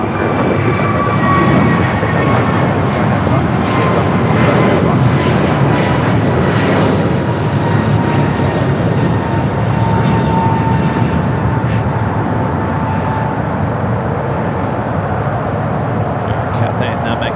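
A Cathay Pacific jet bound for Hong Kong taxis onto a taxiway at LAX, its engines a steady, loud, broadband roar with a faint whine that holds throughout. A voice speaks underneath.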